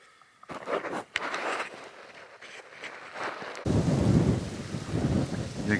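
Strong wind gusts roar through the trees around a Jeep parked by a river on a cold night of camping, a steady broadband rush that swells louder partway through.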